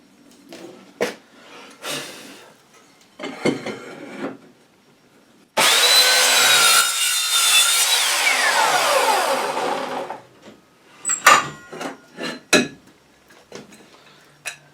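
An Evolution Rage 3S saw cuts through aluminium in one loud, steady high-pitched run of about five seconds, set between scattered short clunks and scrapes of handling the metal before and after.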